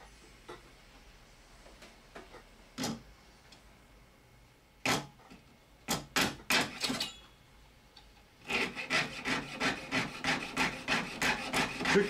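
Jeweler's saw cutting sterling silver half-round wire, starting with a few isolated strokes and then settling into a quick, regular back-and-forth rasp, close and fairly quiet.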